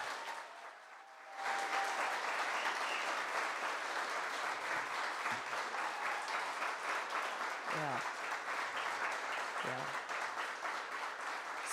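Sustained, dense applause from a Pride storytelling event audience, starting abruptly after a brief quiet moment and holding steady at full strength, with a few faint voices breaking through near the end.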